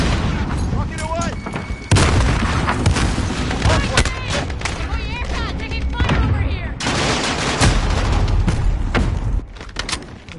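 Rocket fired in a shooter game, a sharp launch and booming explosion amid continuous dense gunfire and battle noise, with voices talking over it.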